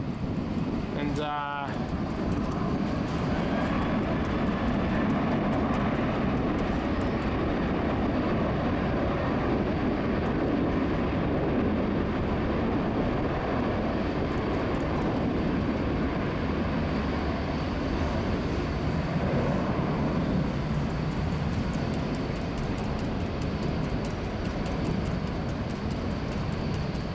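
Airliner taxiing past at Sydney Airport in heavy rain, a loud sustained engine roar mixed with rain noise, with a brief sharp rattle near the start.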